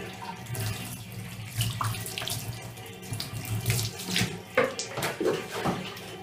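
A running faucet pours water into a sink during a home cat bath, a continuous close stream broken by splashes and shifting flow as the fur and paws are rinsed, with no talking.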